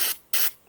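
Two short, close hissing bursts of BMW brake cleaner sprayed from an aerosol can, separated by a brief pause.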